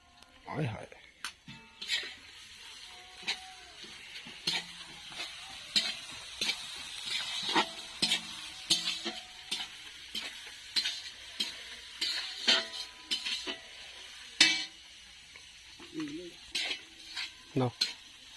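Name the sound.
onion, ginger and garlic frying in a pan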